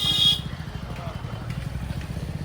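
A Yamaha MT-15 motorcycle engine runs with its exhaust removed, giving a steady, loud low throb with irregular pulsing, heard close up throughout after a brief burst of higher noise at the start.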